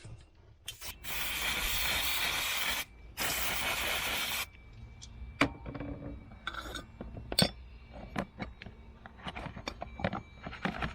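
Brake cleaner sprayed from an aerosol can onto a Blakes seacock in two loud hissing bursts of a couple of seconds each, followed by light metallic clinks and taps of handling.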